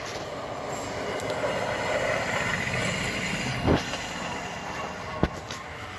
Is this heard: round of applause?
no